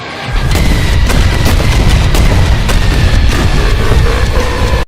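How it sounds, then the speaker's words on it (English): In the video game Factorio, an artillery barrage hits a large patch of biters, loud, dense rumbling explosions with repeated booming impacts stacked over a continuous roar, filling the whole clip before stopping abruptly. "A quick artillery barrage onto an enormous patch of biters."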